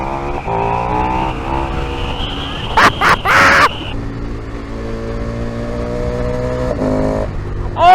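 A motorcycle accelerating gently in rally mode, its engine note climbing steadily through the gears, loud and close, with a short burst of wind or clatter partway through.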